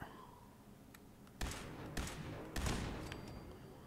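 Gunfire in Fallout 4 rings out in several sharp shots, a few single cracks followed by three louder reports about half a second apart, each trailing off over a low ambient bed.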